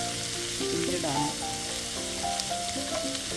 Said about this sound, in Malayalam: ഒന്ന് ചെറുതായിട്ടൊന്ന് ഫ്രൈ ആക്കി എടുക്കണമെന്നുണ്ട്